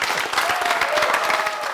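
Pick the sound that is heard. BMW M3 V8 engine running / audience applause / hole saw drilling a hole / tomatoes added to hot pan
audience applause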